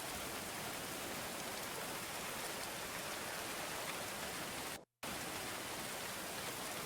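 Steady, dense rain falls in the medieval colony-building game Going Medieval, a constant hissing wash with no variation apart from one very brief cutout near the end.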